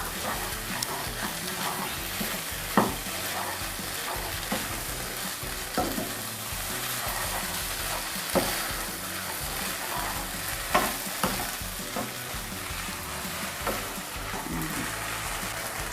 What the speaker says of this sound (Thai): เราจะผัดไฟแรงนิดนึงนะคะ